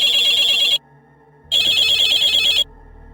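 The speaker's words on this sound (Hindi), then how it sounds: "तभी मेरी माँ का फोन आया" A telephone rings in two long electronic bursts separated by a short pause, loud and close, with no voices.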